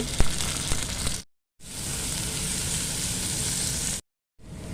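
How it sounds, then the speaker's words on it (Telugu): Mustard seeds, dried red chilies and garlic frying in hot oil for a potato tempering, a loud dense crackling sizzle up close with a few sharp pops, cut by two brief silent gaps. "ఆవాలు వేగిపోయినాయి, ఇప్పుడు ఇవన్నీ వేసేస్తున్నాను. ఇప్పుడు ఎండుమిర్చి, తెల్లగడ్డ వేస్తున్నాను."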